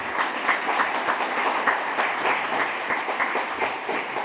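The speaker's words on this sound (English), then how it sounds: "Please, a round of applause" An award ceremony audience breaks into sustained applause, many hands clapping steadily and fairly close, with no talk over it.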